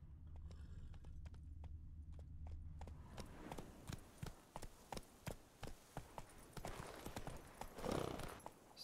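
The horse Roach walks in The Witcher 3, hooves clip-clopping in an even, moderately close rhythm after a quiet start, with a short snort or whinny near the end.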